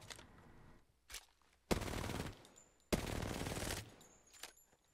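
Video game gunfire: two loud, sharp bursts of rapid shots about a second apart, each lasting under a second, preceded by two fainter short pops.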